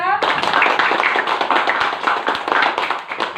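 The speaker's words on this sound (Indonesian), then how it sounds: "tepuk tangan untuk kita semua" Students clap together in a classroom, a dense burst of applause that starts abruptly and carries on steadily for a few seconds, fairly loud and close.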